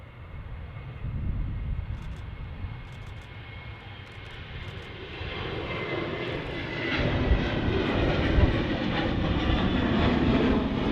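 Engines of an Aer Lingus Airbus A330-300 rumble at an airport during pushback, a low distant roar that swells and grows louder halfway through, heard from outdoors with no speech.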